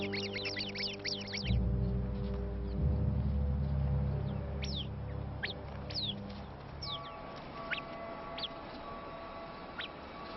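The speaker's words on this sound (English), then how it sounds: "The sentry bird immediately sounds the alarm." Sharp, high alarm calls from a bird flock alerting to a snake sound repeatedly in short bursts over a steady low hum, some fairly close, with scattered quieter chirps following.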